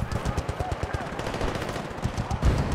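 Rapid bursts of gunfire in Battlefield Bad Company 2 during a mountain combat mission, with quick closely spaced shots, loud and near, and a voice briefly talking in the background.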